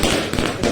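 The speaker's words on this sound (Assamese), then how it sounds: "ৰাস্তাৰ মাজত বোমা আছে গাইছ" A Diwali firecracker goes off in the road, a brief, loud, rough burst of crackling noise that fills the whole moment.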